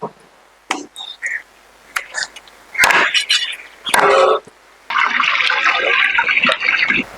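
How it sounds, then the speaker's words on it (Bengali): Water runs and splashes in short bursts with handling clatter, then a longer steady stream of rinsing chicken meat; no speech. "এবারে মাংসটা আমরা ধুয়ে নেব"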